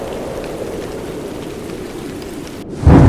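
Steady, dense rain falls in a ghost story's dark night scene as a continuous close wash, ending in a sudden heavy rumbling burst like thunder.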